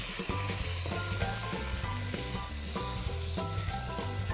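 Taro stalks (takway) go into a simmering pot for an Ilonggo coconut-milk dish, giving a steady bubbling sizzle with faint soft stirring knocks, close and continuous, no voices.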